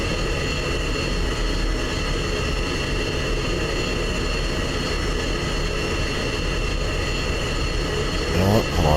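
An F-16 taxis in a flight simulator game, a steady, loud jet engine whine and roar holding constant throughout, with a brief rising flutter near the end and no speech over it.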